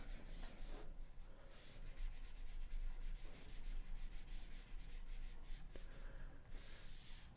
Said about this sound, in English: still with this scrape tool, and just chisel away at some of these corners again